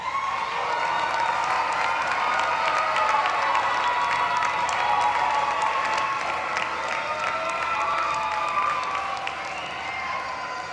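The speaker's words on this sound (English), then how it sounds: "Turn to them, give them a wave, and a grateful round of applause." A large graduation crowd in an arena gives sustained applause with cheering, a loud continuous wash of clapping and voices that stays steady throughout and eases only slightly at the end.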